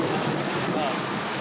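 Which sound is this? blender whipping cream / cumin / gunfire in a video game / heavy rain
heavy rain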